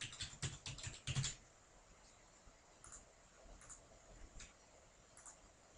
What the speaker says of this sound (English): So firstly, you'll type in the customer.